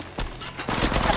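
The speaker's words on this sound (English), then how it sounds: "I am taking fire." A quick burst of rapid gunfire in the mobile shooter Apex Legends Mobile, a few sharp overlapping shots over a second or so.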